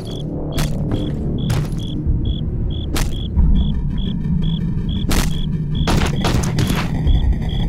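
Heavy gunfire in the co-op zombie shooter Killing Floor, a steady stream of loud close shots with several booming heavy blasts, punctuated by regular high electronic beeps throughout.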